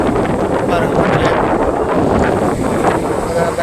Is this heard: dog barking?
no